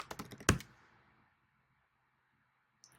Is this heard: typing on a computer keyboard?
yes